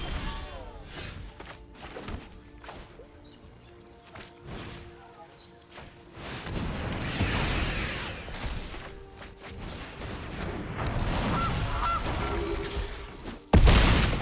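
Goose honks ring out in the Magic the Gathering Arena card game, mixed with thuds, crashes and other game effects, with some talking over parts of it.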